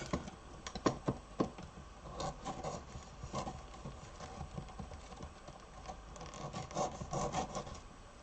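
A sharp knife trimming the edges of a small model, giving a run of close, quiet scraping and rasping strokes in an uneven rhythm with no talking.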